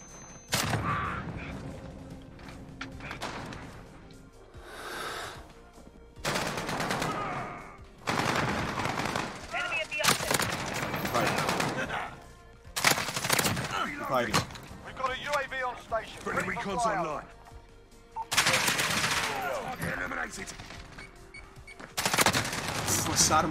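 Rapid bursts of G36C (Holger 26 conversion) rifle fire in Call of Duty Modern Warfare multiplayer, loud, repeated volleys separated by brief pauses, mixed with game effects and someone talking over the action.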